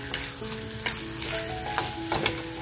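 Brinjal frying with masala crackles and sizzles steadily in a pan, with sharp stirring scrapes and clinks from a utensil at irregular intervals.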